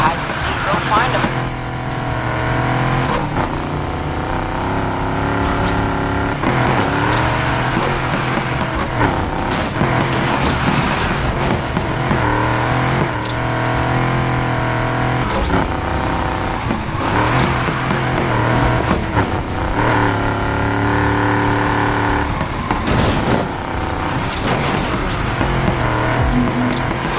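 A Plymouth Barracuda races in the video game Need for Speed Heat, its engine revving up and dropping through repeated gear shifts with tire squeal, loud and close, while police radio voices talk over it.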